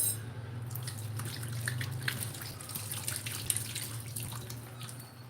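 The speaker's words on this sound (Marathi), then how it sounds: "त्याआधी मी इथे हात धुवून घेते" Hands are washed under a running kitchen tap, a continuous close splashing trickle with a low steady hum beneath it and no speech.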